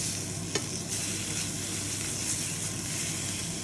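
Duck breast sears steadily in a pan on an induction hob, a dense continuous sizzle with a single sharp tap near the start, with no voices.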